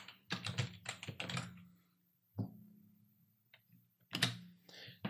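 Someone types on a computer keyboard in a quiet room with clusters of crisp, close key clicks separated by pauses, while someone talks softly over the typing.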